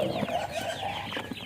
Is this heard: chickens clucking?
yes